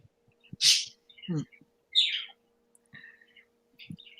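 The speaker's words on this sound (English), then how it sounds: "I hear birds." A few bright bird chirps and short tweets ring out in a quiet outdoor setting, spaced irregularly with brief low thumps between them.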